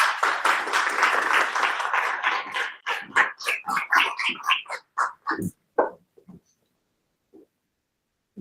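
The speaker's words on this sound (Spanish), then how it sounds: "Lo presentamos y lo invitamos con fuertes palmas" An audience bursts into loud, dense applause to welcome a speaker at a surgery lecture at a university medical faculty, then thins into scattered individual claps over the last few seconds before falling silent.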